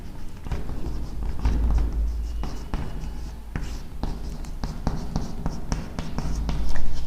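Chalk or a marker scratches and taps on a board during a chemistry lesson, in irregular close strokes with small knocks and scrapes, and no talk over it.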